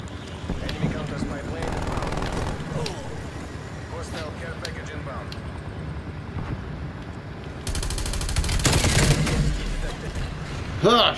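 Gunfire in Call of Duty Black Ops Cold War, with a turret gun nearby: bursts of shots crackle through a busy game mix, growing louder and denser toward the end, while a player talks over it.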